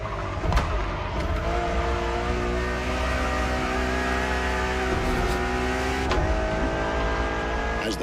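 A Ferrari Enzo supercar engine in a racing game revs and holds a loud, sustained tone with shifting pitch, plus brief tire squeals and bumps, close and alone.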